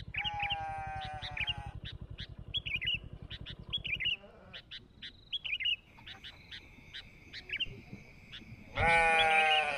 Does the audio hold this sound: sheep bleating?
yes